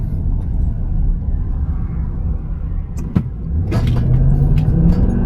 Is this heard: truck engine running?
yes